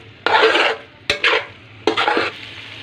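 Bhindi masala (okra) being stirred in a hot pan, giving three separate bursts of scraping and sizzling with short pauses between them, close and fairly loud with no talking.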